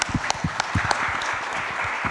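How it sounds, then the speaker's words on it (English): Dense applause from a conference audience, steady clapping throughout at moderate loudness with no talking over it. "let the audience give you a big hand of applause"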